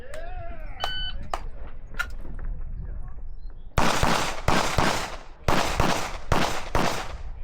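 Pistol shots from a PSA Dagger at a USPSA match stage ring out in a rapid string of loud, sharp cracks after a range officer's start beep, with people talking beforehand.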